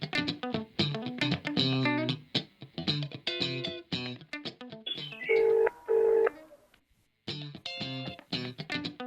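A phone call is dialed on loudspeaker: a rapid run of distorted electronic keypad tones and beeps, ending in two long steady tones, all loud and close with no talking.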